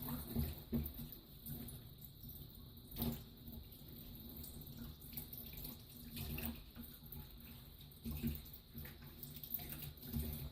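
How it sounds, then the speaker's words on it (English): Hands are washed under a running tap, giving a quiet, steady stream of water with occasional splashy bursts as the hands move through it, close by and with no talk. "Okay, once again, wash our hands."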